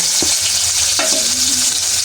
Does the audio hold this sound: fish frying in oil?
yes